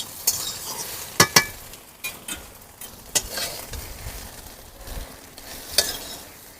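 Soybean chunks frying in oil for an egg and soybean curry, with a steady close sizzle broken by several sharp clacks and scrapes of a utensil stirring in the pan; no talking.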